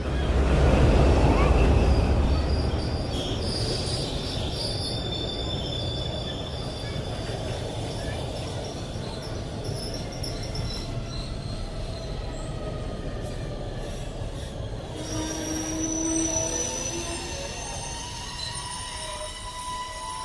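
A passenger train in Punjab, on the way from Rampura toward Patiala, rumbles steadily from inside, with its wheels squealing thinly on the rails throughout and growing louder near the end.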